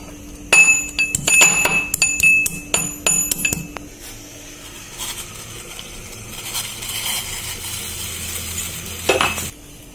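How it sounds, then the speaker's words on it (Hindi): Cloves and spices are crushed in a kitchen: a run of sharp, ringing clinks and knocks comes first, then quieter scraping and grinding, and a final few clatters near the end. "4 लौंग, इसे अच्छे से क्रश कर लूंगी।"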